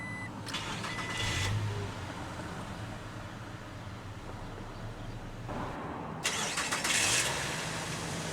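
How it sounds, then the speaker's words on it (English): A 2022 Toyota Tacoma SR Access Cab pickup starting up: a brief starter crank burst, then a quiet steady idle hum, followed by another louder rev-like surge near the end, heard alone without talk. "let's go ahead and start the engine."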